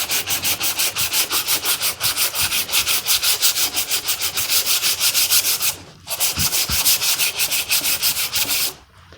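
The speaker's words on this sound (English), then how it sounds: "going to start with hand sanding" A wood floor register cover is hand sanded in steady, rapid back-and-forth strokes, a loud continuous rasping rhythm with two brief pauses.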